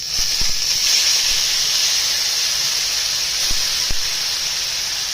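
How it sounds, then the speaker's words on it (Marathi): Ground masala paste sizzles in hot oil already tempered with cumin, asafoetida and bay leaves for a fresh green chana curry, a steady loud hiss running throughout with a few faint clinks. "हा वाटलेला आपण मसाला टाकूया"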